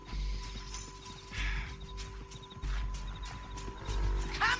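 Hooves of a horse in the video game Red Dead Redemption 2 clip-clop in a steady rhythm, with a brief whinny near the end, under game music and ambience.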